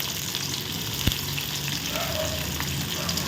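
Curry leaves, green chili and garlic sizzle in hot oil for a spicy tamarind curry with brinjal and drumstick, a steady close crackle and hiss with a single clink partway through.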